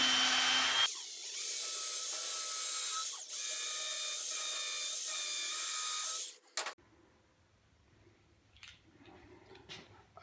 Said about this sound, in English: I decided to go ahead and pilot drill for the wood screws to go in